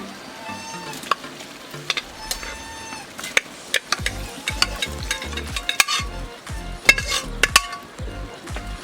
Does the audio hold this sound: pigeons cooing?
no